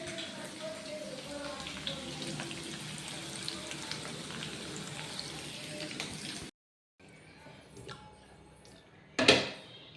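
Chicken liver fries with a steady, broadband sizzle that runs for several seconds, cuts out briefly, then resumes more faintly with a short sharp splatter near the end.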